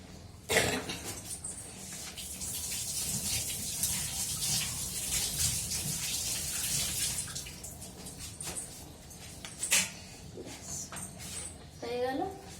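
Vegetables are washed in a basket under running water, making a soft, steady splash and trickle with a few louder sloshes and knocks. The sound is fairly quiet, and faint vocal sounds appear near the end.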